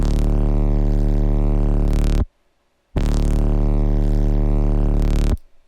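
Heavy, harmonically dense synthesized sound design squashed by OTT multiband compression, in the style of Mick Gordon's DOOM work: two loud sustained bursts of about two seconds each, separated by a brief silence, dense and buzzy throughout.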